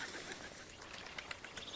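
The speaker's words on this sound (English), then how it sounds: "Some birds just got scared." Birds startled into flight in an immersive video game, a short flurry of faint honking, quacking calls over quiet ambient background.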